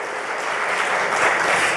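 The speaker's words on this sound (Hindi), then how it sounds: "ताली बजाओ, अभिनंदन करो" An audience claps in welcome for a guest, a loud, dense, steady wash of applause with no voices, swelling slightly toward the end.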